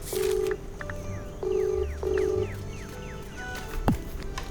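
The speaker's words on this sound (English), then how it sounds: "I'd later find out the reason for that phone ringing" A telephone rings inside the video game Dinkum, sounding as three short ringing bursts over a soft game ambience with rising chirp-like calls in the background.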